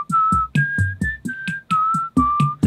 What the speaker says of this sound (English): I'm gonna try whistling.